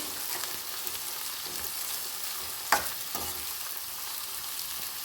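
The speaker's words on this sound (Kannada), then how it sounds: "ಗಡ್ಡೆಕೋಸು ಎಲೆಕೋಸು ಕ್ಯಾರೆಟ್ ಹಾಕ್ಕೊಂಡು ಚೆನ್ನಾಗಿ ಫ್ರೈ ಮಾಡ್ಕೊಳ್ಬೇಕು" Kohlrabi, cabbage and carrot fry in oil for vegetable upma, giving a soft, even sizzle with stirring scrapes and one sharp clank of a utensil against the pan midway. No one speaks.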